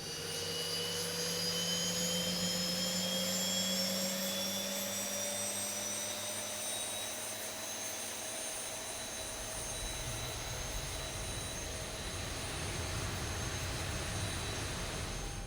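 The number 2 jet engine of an airliner in the X-Plane flight simulator spools up. A steady loud roar is joined by high whining tones that rise slowly and hold, with no talking over it.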